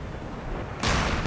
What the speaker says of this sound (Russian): Обстрел идет. Пушка не отпускает.